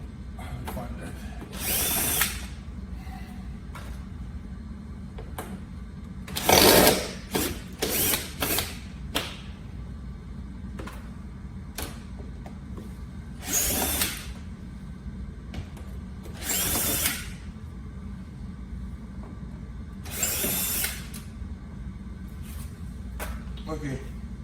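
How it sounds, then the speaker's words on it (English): A power driver backs out screws from a Nissan 370Z pillar in short whirring bursts, about nine separate runs spaced irregularly, close and loud, with a person talking between them. "I'm going to unscrew those."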